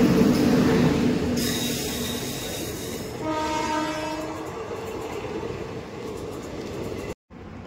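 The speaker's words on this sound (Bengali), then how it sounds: "তোমাকে দেখালাম যে ব্ল্যাক ডায়মন্ড ট্রেন এলো" The Black Diamond Express pulls into a quiet station platform on the Howrah–Dhanbad route with a low rumble, and two long, loud horn blasts ring out over it before the sound cuts off briefly.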